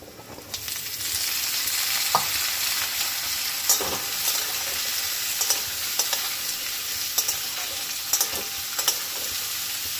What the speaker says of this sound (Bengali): এবার এতে দিয়ে দেবো কুচনো আলু আর কুমড়োটা।